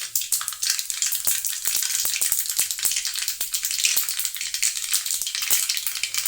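Whole cumin and mustard seeds frying in hot oil for Gujarati kadhi, a loud, steady crackling sizzle with dense popping and spattering, close up and continuous, with no talk.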